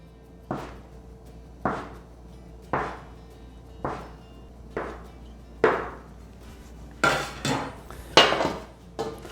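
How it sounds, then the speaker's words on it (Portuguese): Knife slicing a rolled log of potato gnocchi dough into finger-width pieces, each cut landing as a crisp tap on the board in a slow, regular series of about nine strokes, close and fairly quiet with no speech. "agora eu vou cortar esses nhoques na largura de um dedo"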